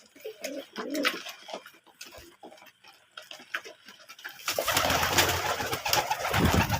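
Desi pigeons in a loft with eggs and chicks, giving soft repeated coos close by, followed by a louder, busy stretch of fluttering and rustling.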